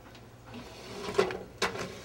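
Angled drawers of a Ludlow matrix cabinet for type matrices are handled up close, giving two short knocking slides about half a second apart over a quiet room, with no talking.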